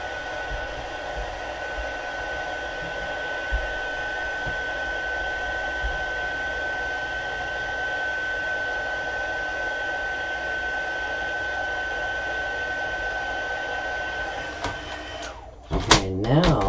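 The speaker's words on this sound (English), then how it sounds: "We need to hit it with our heat tool and make sure it's nice and dry." An embossing heat tool blows over wet Versamark ink on a stamping craft project, giving a loud, steady whooshing drone that holds for about fifteen seconds before cutting off with a few handling knocks.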